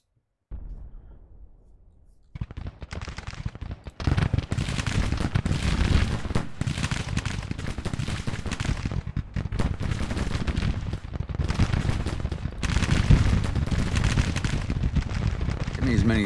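Rifle volleys in the Civil War strategy game Grand Tactician: The Civil War crackle densely and continuously after a quiet opening, loud overlapping gunfire with someone talking over it.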